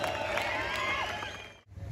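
An audience at a speech event in Belgaum breaks into sustained applause and crowd noise, steady and dense, then briefly cuts out near the end.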